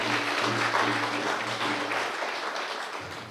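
An audience at the inauguration of a Lourdes Mother Mary shrine bursts into sustained, dense applause. The clapping stays loud throughout and tapers slightly toward the end, with a low hum underneath.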